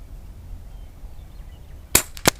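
A power-modded Terminador edition Air Venturi Alpha air rifle fires, giving a sharp, close crack, followed a moment later by a second short impact-like pop after a quiet lead-in.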